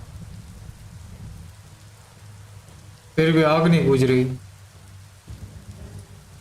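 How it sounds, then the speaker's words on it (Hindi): Heavy rain in the video game Biomutant makes a steady, dense hiss throughout. Someone speaks loudly partway through, and the downpour continues beneath and after his voice. "इतनी सारी बारिश हो रही है जोरों की"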